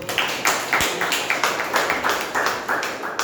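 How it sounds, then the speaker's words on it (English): Small meeting audience clapping at a Toastmasters gathering, a sparse, fairly close patter of individual hand claps with a clear rhythmic pulse throughout. "Can we have a round of applause for"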